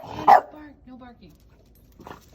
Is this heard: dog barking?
yes